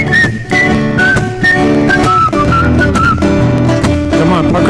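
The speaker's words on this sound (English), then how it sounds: "Come on, pucker up and whistle." A crowd whistles a bouncy tune together over music, the whistled notes sliding up and down in a cheerful melody.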